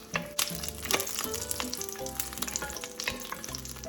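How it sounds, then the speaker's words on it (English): Onion and garlic sizzle steadily in hot oil for Mexican rice, a dense, continuous crackle close up, with a few stirring scrapes and a faint musical background underneath. "Once I've got these lightly toasted, then I'm gonna add in the rice and I'm gonna toast in the rice."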